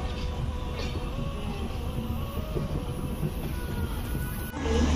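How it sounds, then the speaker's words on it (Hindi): A moving passenger train on a rail journey through Bihar toward Patna, heard from inside the coach as a steady rumbling roar with faint wheel and track noise, continuous and fairly loud throughout. "ट्रेन अभी चल रहा है"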